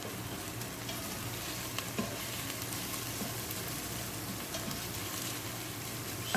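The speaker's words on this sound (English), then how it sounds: "So we're going to fry the onions for around 2-3 minutes." Onions with garlic, ginger and green chili sizzle hard in hot oil, a dense, constant crackling hiss heard up close and alone, with a few faint clicks.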